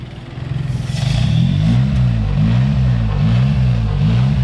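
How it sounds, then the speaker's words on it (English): A Perodua Myvi engine idles unevenly, its low throb wavering and lumpy, steady and close with no talking. "As you guys can hear, the idling is a little bit wonky"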